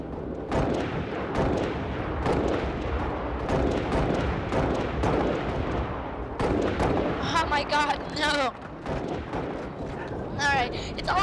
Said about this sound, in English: I wanna snipe somebody out.